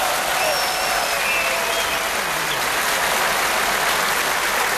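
A large audience of university students applauds at a campus event, producing dense, continuous, loud clapping that holds steady throughout.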